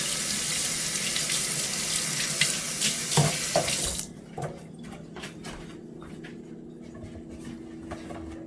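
A kitchen faucet runs hard into a sink as chicken for Jamaican jerk is rinsed, a loud steady rush of water that cuts off midway, leaving quieter handling clatter and room tone.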